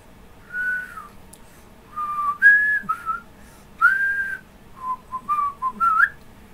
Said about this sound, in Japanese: いや、口笛になるんすよ。